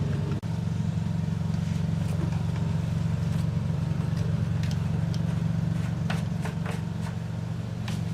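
An old barn-find pressure washer engine runs steadily while choked, a constant low droning chug close by, with faint scattered clicks and rattles over it and no speech.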